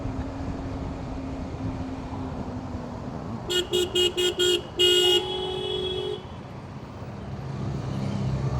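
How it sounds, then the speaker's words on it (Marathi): Heavy road traffic rumbles steadily while a horn sounds four quick toots, then a longer blast, with other honks layered over the constant engine noise. "आज संडे असून पण एवढी ट्रॅफिक आहे."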